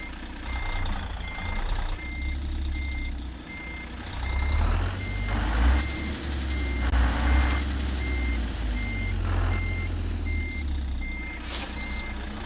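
A Kenworth T880 Next Gen truck in American Truck Simulator backs up with evenly spaced reversing beeps that repeat steadily for the whole stretch, over a low idling engine rumble and air hiss.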